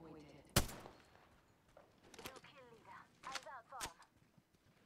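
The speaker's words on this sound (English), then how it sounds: "The shots are coming from the other side of this house." Gunfire in the Apex Legends video game, with one loud sharp shot early and several more scattered cracks over a few seconds, mixed with game effects and voices talking.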